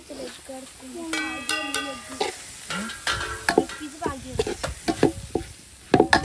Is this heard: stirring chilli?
yes